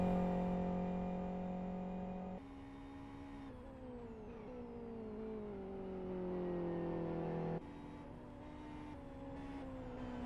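A race car in the sim racer Live for Speed pushed hard on its final lap, the engine note whining high and sustained, rising and falling through gear changes with one sharp upshift near the end, steady and fairly quiet.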